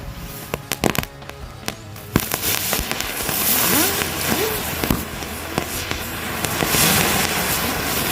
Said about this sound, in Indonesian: selanjutnya kita nyalakan 2 pak mercon gangsing.